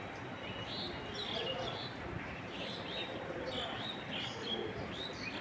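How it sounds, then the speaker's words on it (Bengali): On a cloudy, rainy morning, birds chirp faintly and intermittently, with soft cooing, over a steady wash of background noise. "পাখির শব্দ শোনা যাচ্ছে"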